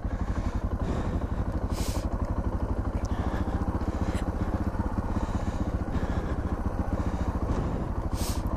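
A Suzuki DR650 motorcycle with a Lectron carburetor runs steadily and loudly up close, its single-cylinder engine thumping in a rapid, continuous beat with small throttle changes as the rider works a touchy throttle while descending.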